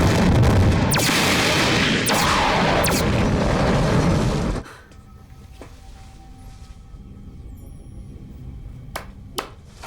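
Spaceship cannons fire in a sci-fi TV series, a loud dense roaring barrage for about four and a half seconds that cuts off abruptly, followed by quieter ambience with a few sharp distant cracks.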